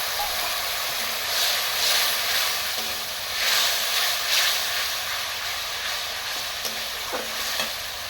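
Water splashed into a hot pan while cooking a vegetarian jackfruit kofta curry, giving a loud continuous sizzle with bursts of hissing and faint stirring, no talk.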